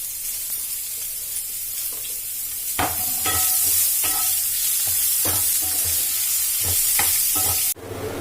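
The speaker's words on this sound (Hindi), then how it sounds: "प्याज थोड़ी पिंक होनी शुरू हो गई, एकदम भुननी शुरू हो गई है।" Medium-cut onions frying in a pan with curry leaves for upma, a steady close sizzle with intermittent scraping stirs throughout.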